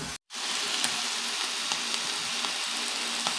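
Octopus adobo with red labuyo chili sizzling loudly in a pan, a dense continuous crackling fry after a brief gap at the start, with faint stirring taps and no voices.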